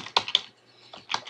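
Several quick keystrokes on a computer keyboard, light clicky taps in two short bursts separated by a pause, close and quiet with no voices.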